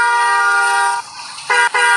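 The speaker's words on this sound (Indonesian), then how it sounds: "Dan juga suara klaksonnya juga beda ya." Loud, close, harmonic horn of a Pegasus bus: one long sustained blast, a short gap, then two quick toots, with no talking.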